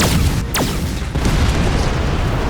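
A deep anime magic blast booms through an exam hall, a loud sustained rumble with a brief rising whoosh near the start, filling the whole moment with heavy low-end impact.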